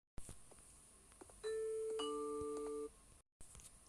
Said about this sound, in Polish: ktoś dzwoni do drzwi